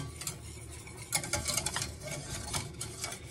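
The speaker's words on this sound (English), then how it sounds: "Get that stirred up in it." Vanilla is stirred into a cake mixture, producing soft repeated scraping and clinking of a utensil against the bowl, fairly quiet and close.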